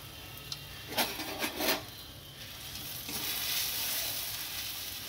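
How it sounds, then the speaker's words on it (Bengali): Five-spice, cumin paste, turmeric and dried chilli powder sizzle in hot oil while being stirred for a lentil dal, a few close scrapes of a spatula, then a steady hiss that grows fuller. "আবার নেড়েচেড়ে নিচ্ছি।"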